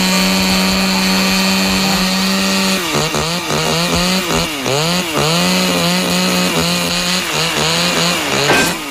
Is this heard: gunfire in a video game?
no